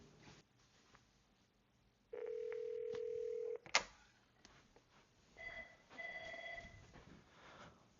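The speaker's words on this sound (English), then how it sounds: "all of the phones around the house are ringing" Avaya IP Office desk phones ring around a house, a steady electronic tone holding for over a second, then a sharp click and softer warbling ring tones, fairly close and with no talk.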